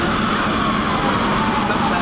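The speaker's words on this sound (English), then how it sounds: "The rotor blades are beginning to turn now." A helicopter landed in Trafalgar Square, its rotor blades beginning to turn. A steady, loud, broad roar fills the whole stretch with no break.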